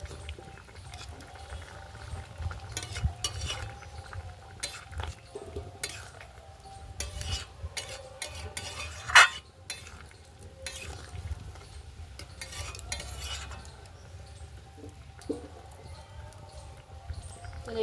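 A spoon scrapes and knocks against a pot as potato and eggplant are stirred and mashed into a simmering curry of snails and bottle-gourd greens. The clicks and scrapes repeat irregularly over a low bubbling background, with one sharper clatter near the middle.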